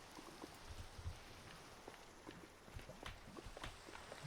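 Rain falling in a Minecraft game, a faint, steady patter of drops with scattered sharper taps over a soft hiss, with no talking.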